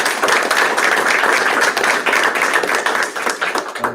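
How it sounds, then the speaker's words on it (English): Audience at a school board meeting breaking into a round of applause, dense, steady clapping from many hands in a room, fairly close and sustained, no talking over it. "So round of applause for him."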